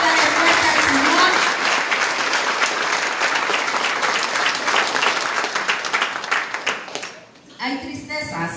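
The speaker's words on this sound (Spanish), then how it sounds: "Apláudale fuerte al Señor." A church congregation claps loudly and steadily during a Sunday sermon, the dense applause filling the room with voices mixed in, then briefly thinning near the end as a speaker's voice returns.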